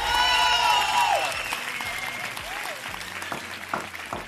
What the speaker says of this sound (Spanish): Y este aplauso,